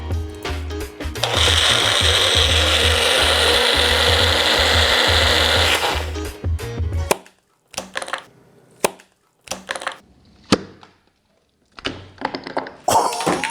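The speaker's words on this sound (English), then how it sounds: "we're gonna turn off the heat, pop this in a blender" Hot sauce whirs loudly in a blender for about seven seconds, a steady grinding roar that cuts off abruptly, followed by scattered short clatters and bumps.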